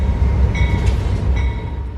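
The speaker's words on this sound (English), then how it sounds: "as Amtrak's Empire Builder makes its way into Whitefish Station" Amtrak's Empire Builder passenger train pulls into Whitefish Station in northwestern Montana, a loud, steady rumble of rolling wheels close by with a faint high squeal of brakes rising twice.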